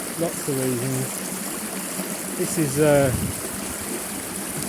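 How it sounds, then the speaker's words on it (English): Steady rush of a stream with small waterfalls along a Peak District hiking trail, broadband flowing water throughout while someone speaks briefly over it. "Lots of waterfalls."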